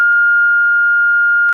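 National emergency alert tone: a single loud, pure electronic beep held steadily for about a second and a half, clean and unaccompanied.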